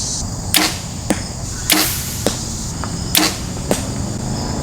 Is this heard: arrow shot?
yes